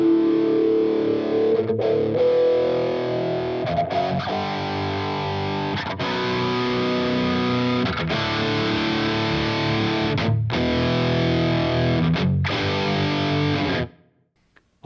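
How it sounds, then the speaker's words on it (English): Heavy distorted electric guitar tone from a Fractal FM3/FM9/Axe-FX III preset with a pop sweep, chugging chords and sustained notes with brief gaps, loud and dense, ending abruptly in silence. "could have a pop sweep on your heavy tone if you so desired."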